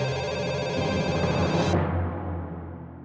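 An electronic telephone ring sounds loudly and steadily, then cuts off abruptly partway through, leaving a low muffled rumble.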